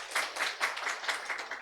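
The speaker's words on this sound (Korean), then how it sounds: "하나님 박수 올려드려." Church congregation at a Korean Sunday service claps together in brief, rhythmic applause, a short burst of quick, even hand claps heard at moderate distance in a reverberant hall.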